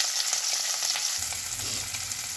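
Chopped onion, ginger and garlic frying in a pan with carom seeds for a winter potato, fenugreek and carrot dish, a strong continuous sizzle that thickens with low stirring scrapes halfway through, close and without speech.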